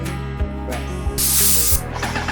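Thinned latex paint sprayed onto van cabinet parts: a steady motor hum with short pulses, then a loud, close burst of spray hiss for about half a second, alone without talk.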